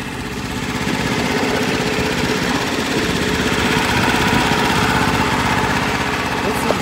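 A 212cc Predator Hemi engine, swapped in place of a dual-shaft 5HP Tecumseh, runs loud and close with a steady, rough small-engine drone and rapid firing pulses.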